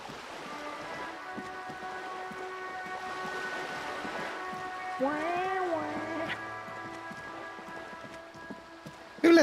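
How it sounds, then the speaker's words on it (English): A cat meows in a video game, a single drawn-out, rising-then-falling cry over soft rain ambience, fairly faint under the game's background. "Who let that cat in?"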